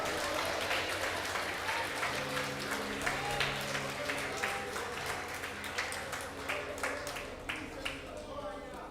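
A church congregation at a Portuguese-language Bible study applauds continuously, with dense crowd clapping under a loud speaking voice and some music throughout.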